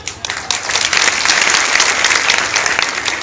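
An audience at a satsang gathering in Gorakhpur claps in loud, sustained applause that fills the hall for several seconds.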